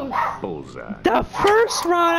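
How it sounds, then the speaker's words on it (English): A pet dog yaps and whimpers in short, high bursts close by during a Mortal Kombat X gaming session, tangled with someone talking over game sounds. "Sorry guys, that's my dog."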